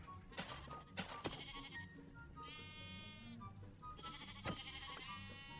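Several Minecraft sheep bleat in turn, wavering and fairly close, over a busy background of game noise and clicks.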